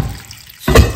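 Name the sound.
water being added to cocoyam porridge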